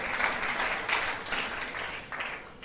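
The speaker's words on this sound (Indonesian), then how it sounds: "Berikan tepuk tangan." A church congregation claps after a preacher's call for applause, a moderate wash of hands in uneven surges that fades slightly toward the end.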